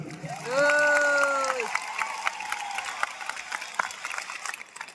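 Audience applause in a large stadium hall at a wellness company event, a steady wash of clapping that rises and holds after a brief tonal sweep at the start.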